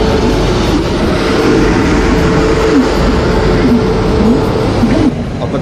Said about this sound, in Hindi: रायपुरम सेट का WAP7 लोकोमोटिव हमें पहुँचाएगी अपनी मंजिल तक।